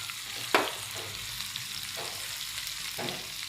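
Gentle sizzle of garlic, coriander, curry leaves and asafoetida frying in oil with cumin and mustard seeds in an iron kadhai, a close, steady crackle with a few soft stirring scrapes.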